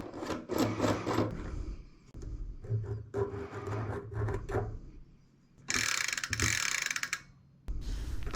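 Large pliers working on an old bicycle cassette, giving bursts of metallic ratcheting and grinding clicks in uneven spells, with a brighter harsh rasping stretch near the end, close and fairly loud, no talk.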